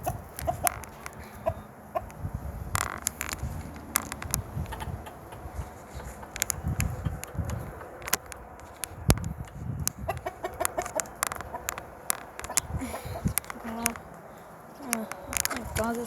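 Hens and a rooster at a farmyard coop, clucking in short bursts at close range amid shuffling and clattering, with a person talking over them.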